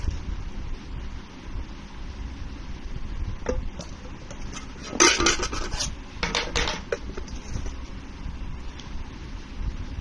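A sieve of flour for a chocolate cake is shaken, giving short bursts of soft rasping and tapping in the middle of the stretch over a low, steady room background.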